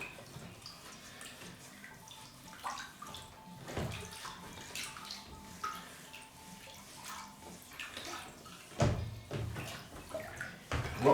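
Water running and splashing into a tub for soaking grimy parts from an 1865 Forster & Andrews pipe organ, a steady wash with intermittent sloshes and knocks, close and moderately loud.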